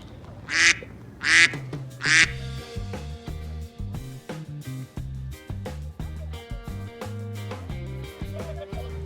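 Ducks at a kids' fishing day by the water give three loud, close quacks in quick succession, followed by a rhythmic tonal backing with steady low pulses to the end.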